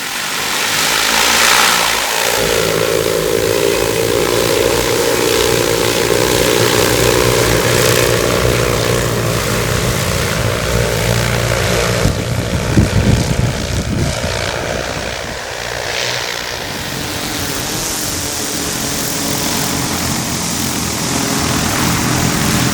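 A large Hylio agricultural drone's rotors roar loudly and continuously like a helicopter, a dense buzzing whir that holds steady and swells slightly as it flies close.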